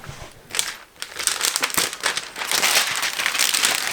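Vinyl wrap film being handled and peeled on a Nissan GT-R, giving close, loud crinkling and rustling that grows busier and more continuous toward the end.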